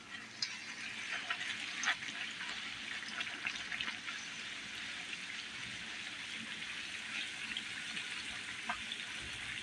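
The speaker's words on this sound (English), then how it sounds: "Got it here frying." Soft, steady sizzling and crackling of fry bread frying in a pan, with occasional louder pops over a continuous hiss.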